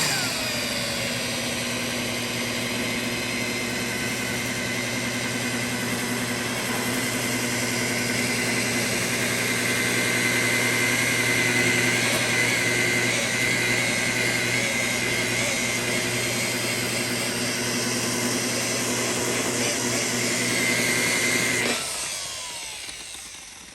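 A paint correction polisher spins on low speed on a 1968 Dodge Monaco 440 Magnum barn find, making a loud, steady motor whine with constant hum for over twenty seconds before it winds down.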